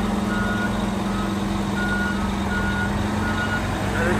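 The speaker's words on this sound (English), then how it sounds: "No, that's a Freightliner. That's a beautiful truck." A Freightliner truck backs up with a steady reversing beep repeating over loud diesel engine rumble and broadband site noise, close and constant throughout.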